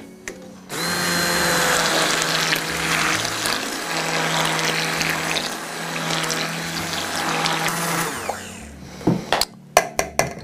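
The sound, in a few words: blender mixing chocolate ganache cream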